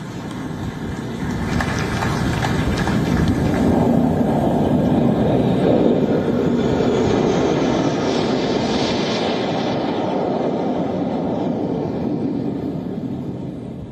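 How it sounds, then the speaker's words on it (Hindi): A formation of MiG-29 fighter jets flies past during an aircraft carrier commissioning ceremony. A loud, broad roar swells over several seconds and then slowly fades, with no talking. "आसमान को चीरते आ रहा है MiG-29 के लड़ाकू विमानों का यह दस्ता"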